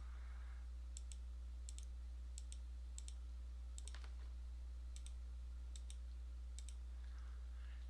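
Computer mouse clicks from an operator positioning points on MRI and CT scans in imaging software: faint, sharp clicks repeated at a steady, even pace against a quiet background hum.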